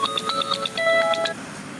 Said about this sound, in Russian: кто-то мне звонит.